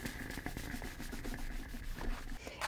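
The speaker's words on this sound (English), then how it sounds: "you can pick up the cloth and rub the cloth onto the sole" Cloth rubbed firmly back and forth over the hot soleplate of a clothes iron during cleaning, a steady scratchy scrubbing close by that continues alone without pause.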